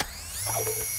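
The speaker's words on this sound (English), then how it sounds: "I'm reloading!" A weapon reload and magazine change in Call of Duty: Modern Warfare II: a short run of mechanical clicks and a ratcheting slide, close and fairly quiet over steady game ambience.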